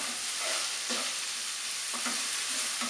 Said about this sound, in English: if you've got any bits on the bottom of the pan, you can scrape those up